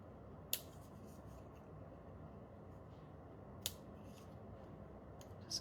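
Scissors trim a paper craft piece, making a few faint, isolated snips spaced several seconds apart against quiet room hiss, with no talk.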